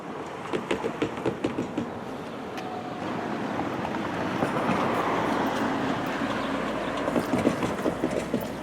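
An Amtrak Pacific Surfliner led by an SC44 Charger locomotive rolls past at a railroad crossing in Oceanside, California, with a steady broad rumble and rhythmic wheel clicks at the start, holding loud for several seconds.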